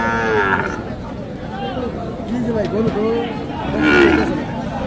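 Calves at a cattle market moo several times in short, wavering calls at close range, with people talking in the background throughout.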